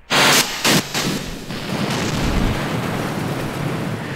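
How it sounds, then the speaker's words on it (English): Missiles launch from an organ-style tank in Kerbal Space Program: two sharp, loud bursts of rocket fire open the sequence, followed by a sustained rushing roar that fades gradually. "Fire some missiles!"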